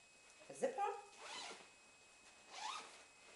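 A zipper on a large red and black tartan check bag is pulled in short rasping bursts, close and quiet, with pauses between the strokes.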